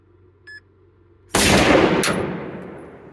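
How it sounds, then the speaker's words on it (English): A single loud, close rifle shot at an outdoor shooting range, with a Sentry TUR105 in use, cracks out sharply and rings into a long decaying tail, a faint beep before it and a second sharp crack following. "We're just gonna try and shoot 3 more shots."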